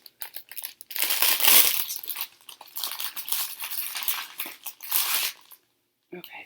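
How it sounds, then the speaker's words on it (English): Plastic packaging around a piece of 32-count fabric crinkles and crackles close by in dense, scratchy bursts for several seconds, then goes quiet, with a brief rustle at the end. "Let's talk about the crinkling."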